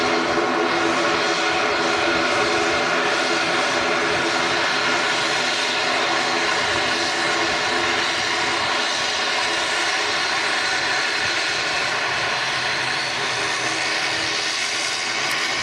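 A plane's engines roar steadily at windy Manchester Airport, a loud, sustained rumble with a broad whoosh that barely changes over the whole stretch.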